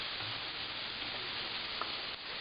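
Food for mango barbecue pork chops sizzles quietly in a hot pan as it is stirred, a soft constant frying hiss with a faint scrape or two and no talking.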